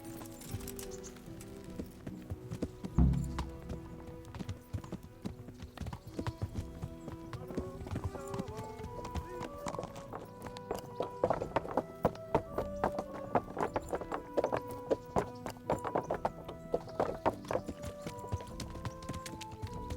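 Horse hooves clip-clop steadily through the video game Kingdom Come: Deliverance, a fairly close rhythmic trot running the whole time over a bed of game music and ambience.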